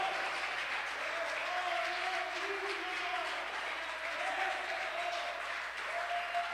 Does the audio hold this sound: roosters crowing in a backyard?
no